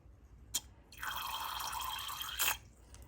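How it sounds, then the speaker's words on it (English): Clean water rinses through a syringe used to flush a Pelikan Twist fountain pen cartridge: a single drip, then a close, quiet stream of running water lasting about a second and a half before stopping. "I'm going to flush out and rinse my syringe here"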